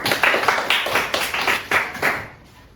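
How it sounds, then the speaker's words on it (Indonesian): Classmates clap for a fellow student in a classroom, a short burst of loud, close, rhythmic hand claps in uneven pulses that fades out near the end. "Tepuk tangan dulu untuk temannya."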